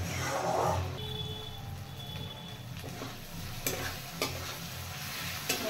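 Spices are sautéed in a pan for a fish curry, a close steady sizzle with frequent stirring scrapes and a few sharper spoon knocks toward the end; nobody talks.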